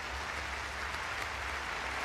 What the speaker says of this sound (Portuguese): E agora é debaixo de palmas de toda a assistência